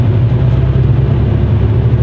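A truck pulls away after unloading, its engine giving a loud, steady low rumble and whir close by with no talking.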